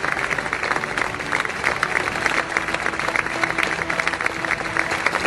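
An audience claps for young martial arts athletes at a demonstration, with continuous dense applause and some crowd noise throughout.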